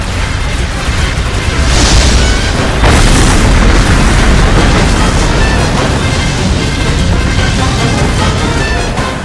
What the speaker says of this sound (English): All ships open fire.